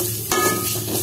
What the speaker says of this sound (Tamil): வெங்காயம் நல்லா ஈஸியாக வதங்குறதுக்கு லைட்டாக உப்பு இதில் போட்டுடலாம். போட்டு நல்லா வதக்கிக்கோங்க.